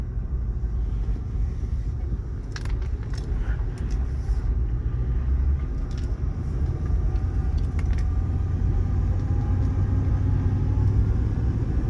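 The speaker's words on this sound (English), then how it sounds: "It's kind of got a whiny sound like a 429" A steady low engine rumble inside a moving 1977 Ford LTD Landau, with a faint whine running underneath and a few brief clicks and rattles.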